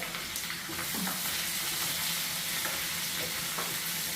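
Onions for chicken biryani sauté in a pan with a continuous soft sizzle and occasional stirring scrapes, quiet and steady throughout.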